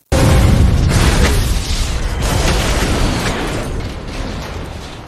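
A sudden loud bomb explosion bursts in and rumbles on, a dense roaring boom that slowly fades over several seconds.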